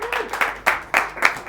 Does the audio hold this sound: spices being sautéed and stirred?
no